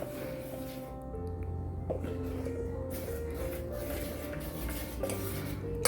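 Ragi batter stirred in a bowl with a spoon, soft repeated scraping and light clinks against the bowl, quiet and close with no talking.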